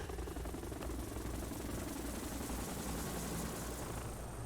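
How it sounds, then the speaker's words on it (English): Helicopters in the video game Yakuza, a steady broadband rotor and engine drone that holds evenly throughout at a moderate level, with no voices over it. "Here are my backup helicopters."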